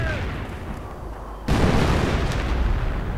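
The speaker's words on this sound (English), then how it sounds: "Artillery being called down on the German troops" In a strategy video game, an artillery barrage falls on German infantry: a constant low rumble breaks into a sudden heavy boom halfway through, then a dense, loud roar of explosions continues.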